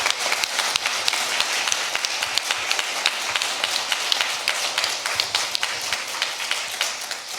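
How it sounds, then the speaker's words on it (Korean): A church congregation applauds warmly to welcome a new pastor at an anniversary worship service, with dense, steady clapping that carries on throughout without a pause. "진영채 목사님께서 앞으로 자리하실 때 뜨거운 박수로 맞이해 주시기 바랍니다"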